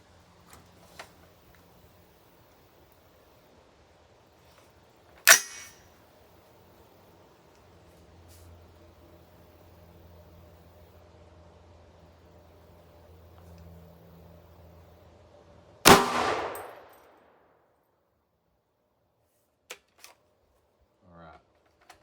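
Two sharp rifle shots from an 8.6 Blackout firing Hornady 225gr CX all-copper bullets into a clear ballistics gel block, spaced about ten seconds apart, loud and close with brief echo tails over a quiet outdoor background.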